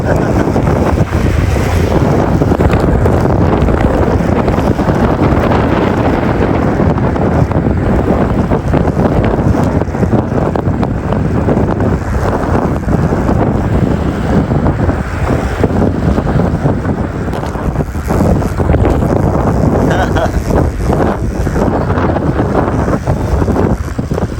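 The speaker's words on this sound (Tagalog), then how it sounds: "Hangin." Steady, loud wind buffets the microphone throughout, a continuous broadband roar with gusting swells and no voices.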